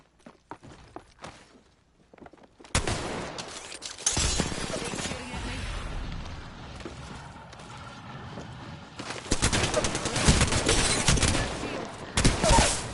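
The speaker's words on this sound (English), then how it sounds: "I'm going to chase you down with this massive shotgun." Shotgun blasts and gunfire from a frantic Apex Legends match, loud bursts over continuous game action and footsteps, with a few sharp spikes standing out near the end.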